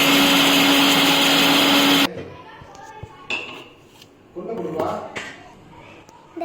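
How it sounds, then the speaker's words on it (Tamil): A kitchen mixer grinder whirs loudly and steadily while grinding coconut, then cuts off abruptly, followed by clinks of utensils and dishes as people talk nearby. "நாங்கள் தேங்காய் எடுத்துட்டு மிக்சியில் அரைக்க போகிறோம்."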